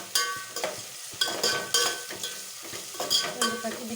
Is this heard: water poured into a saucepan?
no